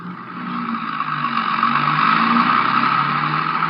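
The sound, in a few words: car driving off with a passenger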